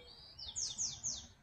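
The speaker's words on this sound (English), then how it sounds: "a Bewick's wren." A Bewick's wren sings on a warm day in a backyard garden: three quick, bright descending whistled notes, fairly faint and distant over a soft outdoor hush.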